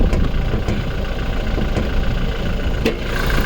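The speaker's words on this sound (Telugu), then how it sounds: "చూడండి సార్, ఇంజన్ స్టార్ట్ చేసి మరీ చూపిస్తున్నాను" A steady low engine idle of a 2020 Toyota Innova Crysta 2.4 Z rumbles close by, with a few faint clicks on top.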